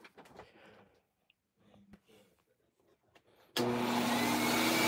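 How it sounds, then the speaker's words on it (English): A vacuum cleaner almost 20 years old and in need of a belt switches on after a few quiet handling noises, then roars loudly and steadily with a whining hum. "This vacuum is almost 20 years old."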